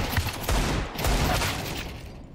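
Rapid automatic gunfire bursts crack out in a competitive first-person shooter match, several loud close volleys in quick succession with sharp transients and brief gaps, fading slightly toward the end.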